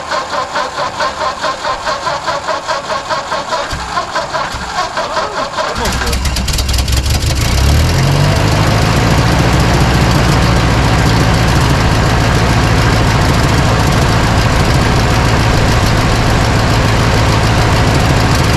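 An old Ford tractor engine catches after cranking and settles into a loud, steady, rumbling idle that continues to the end.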